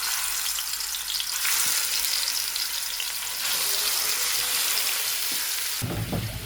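Prawns hit hot oil for a spicy Gujarati-style prawn dish, giving a loud, continuous crackling sizzle that stays dense and steady from start to finish, with no voices.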